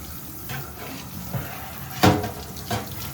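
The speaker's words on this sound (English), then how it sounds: "let's do a finalized rinse" Parts from a 1967 Schwinn Typhoon bicycle get a final rinse under a running tap, a steady close hiss of water with splashes as pieces move through the stream and a louder gush about two-thirds of the way in.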